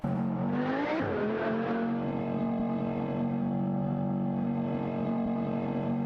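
Racing engines of a Lamborghini Murcielago SV and an Aston Martin Vantage GT12 in a video game race hold a loud, steady, sustained drone, rising in pitch briefly near the start, then running on evenly without a break.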